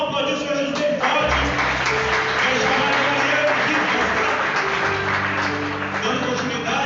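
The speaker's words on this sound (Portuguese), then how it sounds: "Vamos aplaudir o Senhor Jesus bem forte." Congregation at an evening church service in Chapecó applauding together, a loud sustained wash of clapping with music and voices mixed underneath throughout.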